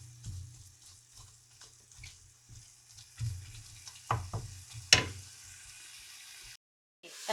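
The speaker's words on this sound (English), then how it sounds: "So just brown your burgers, your hamburger or Italian sausage." Hamburger meat browns quietly in a pan, a faint low sizzle broken by a few spatula scrapes and clatters, one sharp knock partway through, then a brief silence.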